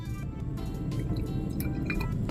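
Ordinary tap water poured into a glass bottle, a steady liquid gurgle and splash with drip-like clinks, close and continuous throughout.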